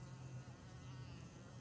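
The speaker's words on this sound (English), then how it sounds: "this fly trying to get around, buzzing while I'm trying to do work" A housefly buzzes steadily and close by throughout, a continuous low drone with slight wavering as it circles, with no talk over it.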